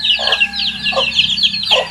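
Native chickens cluck in three short low bursts while chicks peep steadily and busily throughout, close by.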